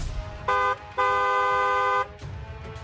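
Car horn honking twice, a short blast followed by a longer sustained one, loud and close over faint background noise.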